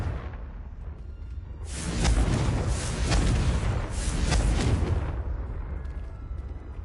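A Confringo fire spell explodes in Hogwarts Legacy, a broad roaring burst that swells over a few seconds and then fades, loud against a steady game background.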